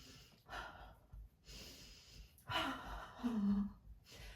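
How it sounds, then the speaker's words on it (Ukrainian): A few slow, audible breaths, air drawn in through the nose and pushed out through the mouth in a steady rhythm, close by with no talking. "Дихаємо носом, видихаємо ротом."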